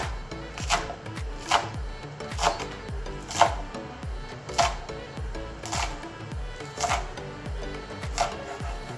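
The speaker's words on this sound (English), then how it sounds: "So we'll make them really small slices." Knife chopping a vegetable into very small garnish slices on a cutting board, a steady run of crisp, evenly spaced cuts about twice per second, close and fairly loud, with no talking.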